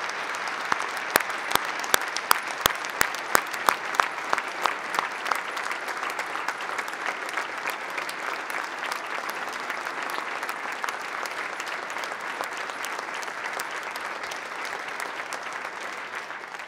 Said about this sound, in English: please give a round of applause for Governor Martin